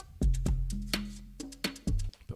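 Unequalized drum groove sample from a hip-hop beat, with boomy kick hits and sharp snare cracks in a steady loose pattern, several hits over a couple of seconds alongside a low sustained bass tone, heard alone.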